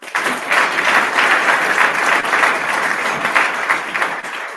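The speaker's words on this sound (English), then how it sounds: "So clap for yourself." Steady, dense audience applause rolls on at a closing ceremony for a medical training camp's graduating class, many hands clapping together at even loudness throughout with no voices over it.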